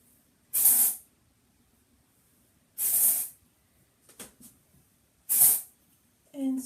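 Dry shampoo sprayed onto backcombed hair in three close, short hissing bursts about two seconds apart, with faint handling rustles between them.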